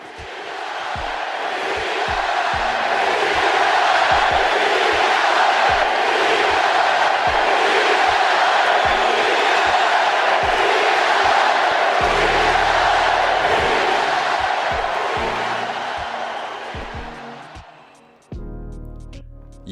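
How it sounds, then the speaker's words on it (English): Boston Celtics fans in a packed arena roar and chant 'Beat L.A.' for the 76ers late in the game, a dense, sustained crowd noise that fades out near the end. "That's the Boston Celtics fans, arguably one of the most passionate fans in the history of the sport, cheering on the 76ers"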